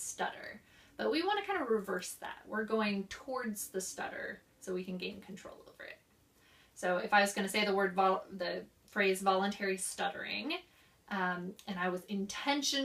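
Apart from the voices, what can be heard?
No distinct noise like a dog, phone or traffic.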